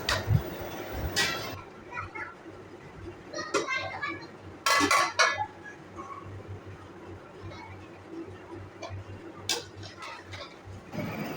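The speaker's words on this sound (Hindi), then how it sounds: "अच्छे से मिक्स कर लेंगे।" Soaked tamarind being stirred into a pot of yakhni for aloo pulao, with occasional metal clinks and scrapes of a spoon against the pot over a low background hum and faint intermittent voices.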